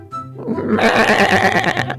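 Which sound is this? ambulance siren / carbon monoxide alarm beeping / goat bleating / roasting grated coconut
goat bleating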